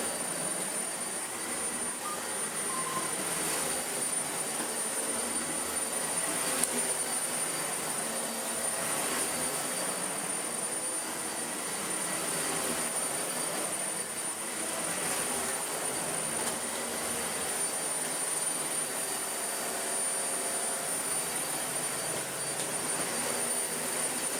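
A Dyson Ball Animal 2 vacuum cleaner on its high setting runs over a rug with a loud, steady, whooshing roar and a thin high whine, continuous and close for the whole stretch.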